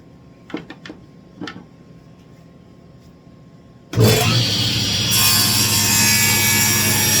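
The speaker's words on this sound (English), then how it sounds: "go over to the chop saw and cut this last piece" A few light wooden knocks come first, then a chop saw starts abruptly and cuts into a wooden piece for a small toy tank, a loud, sustained whining buzz that runs to the end.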